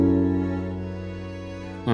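A string part plays dry without effects, sustaining a rich, steady chord for under two seconds before a new chord enters at the very end.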